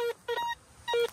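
A DeepTech Vista Gold Hound metal detector gives tonal beeps over a piece of coke, with a broken, warbling signal of three short electronic bursts, close and clear with no speech.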